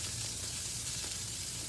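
Cubed red and Idaho potatoes sizzle in a Lodge carbon steel pan, giving a steady, loud, bright frying hiss with no voices over it.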